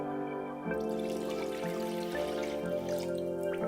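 Water poured into a Chinese base sauce of Shaoxing cooking wine, dark and light soy sauce and sesame oil, a steady close trickle and splash that carries on unbroken and alone.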